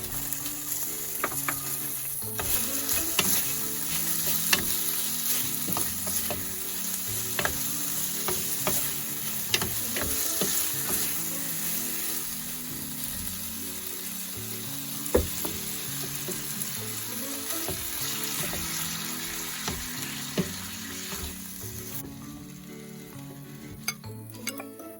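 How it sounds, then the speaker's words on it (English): Pre-cooked vegetables and broccoli stir-fried with beef, a long steady sizzle broken by repeated clinks and scrapes of a utensil against the pan, fading slightly toward the end. "Now we'll add our pre-cooked veggies."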